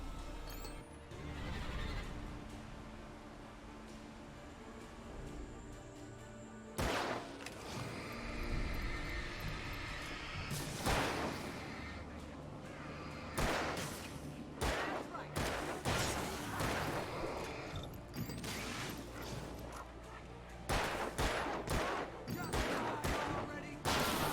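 Gunfire in the video game Alan Wake comes in sharp repeated bursts and single shots over a low rumbling game soundtrack, loud and close, with a stretch of quieter ambience before the shooting begins.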